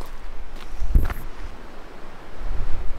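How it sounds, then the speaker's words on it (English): Blustery wind on the Pacific coast near Ucluelet and Tofino buffets the microphone in low rumbling gusts over a constant wash of surf, with one sharp thump of wind noise early on. "So it's so windy here"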